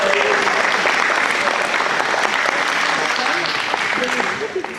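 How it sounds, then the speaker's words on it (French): Sustained audience applause from a crowd in a hall at a club's fortieth anniversary show, dense and even, tapering slightly at the end. "très cher public, merci pour vos applaudissements, pour votre soutien."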